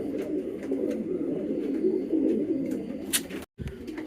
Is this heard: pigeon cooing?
yes